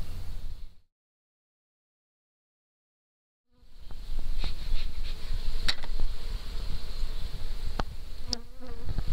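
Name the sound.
honeybees buzzing around a hive comb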